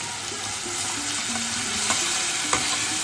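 Turmeric, Kashmiri chilli powder, salt and potatoes frying in a pan for a Bengali banana flower ghonto, a steady sizzle with scraping stirs and a couple of sharper knocks, close and continuous with no talk.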